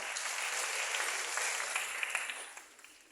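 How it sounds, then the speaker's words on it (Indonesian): An audience at an Indonesian youth forum gives a sustained burst of dense applause from many hands, which tapers off near the end. "Tepuk tangan sekali lagi."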